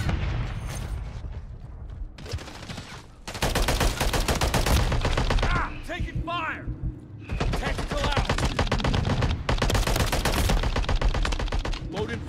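Rapid bursts of automatic gunfire fill Call of Duty Modern Warfare 3 ranked multiplayer, loud sustained volleys broken by short pauses and mechanical clicks, with faint game voice chatter between.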